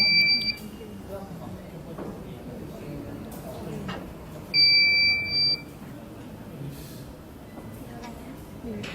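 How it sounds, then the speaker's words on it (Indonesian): A buzzer driven by a Raspberry Pi and triggered when a PIR motion sensor detects movement, giving two short, high-pitched electronic tones heard faintly at first and then again in a firmer one-second burst over low room hum. "maka buzzer akan berbunyi."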